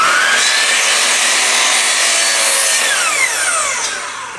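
Power saw cutting through wood at a 45-degree angle, one continuous close, loud cut that gradually tapers off near the end.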